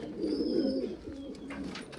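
High-flyer pigeons cooing in a few soft, rolling low calls over two seconds, close and fairly quiet, with no talk.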